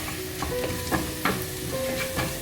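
A spoon stirs coriander powder through oil in a frying pan while making a fried chicken curry, giving a few distinct scraping strokes over a steady low sizzle, close by, with no talking.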